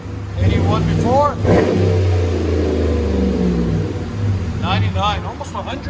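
A close, loud, rumbling V8 idle from a 2019 RAM 1500 5.7L Hemi fitted with Flowmaster 40 Series dual exhausts, with a quick rev early on and a voice cutting in over it at the beginning and again later.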